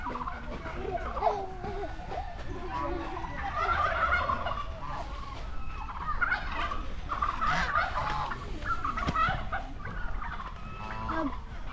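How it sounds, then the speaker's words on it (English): Turkeys gobble repeatedly at a wildlife park in Perth, loud and fairly near, with overlapping calls and other fowl clucking; people talk faintly in the background. "And we can hear turkeys."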